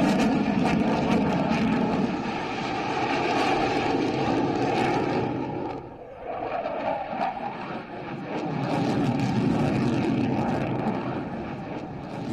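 A Rafale fighter jet roars overhead at an Indian Air Force Day display, a loud, sustained broadband engine rumble that dips briefly in the middle before swelling again.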